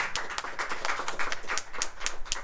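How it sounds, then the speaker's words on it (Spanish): Worshippers at a church service break into brisk clapping, a small group's rapid, uneven hand claps at moderate volume with no talk over them. "Un aplauso al Señor."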